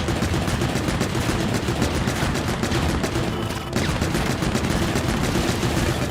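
Rapid machine-gun fire from the Man-at-Legs boss in Pikmin 4, a dense, continuous rattle of shots that barely pauses for about six seconds, loud and up close with no talk over it.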